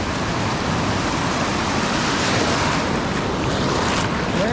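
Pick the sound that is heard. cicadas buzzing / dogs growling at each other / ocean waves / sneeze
ocean waves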